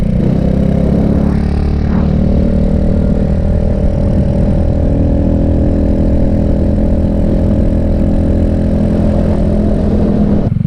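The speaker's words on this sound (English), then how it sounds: "It's idling super high." A Vader 125 motorcycle engine idles at a high, steady speed, loud and close, with a constant drone and no voices.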